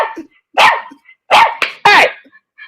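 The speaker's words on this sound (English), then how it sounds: "you barking at me like that?" A female dog named Chocolate, recovering from a near-fatal illness, gives three or four sharp, loud barks close by in quick succession, with no talk over them.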